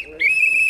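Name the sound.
whistle blown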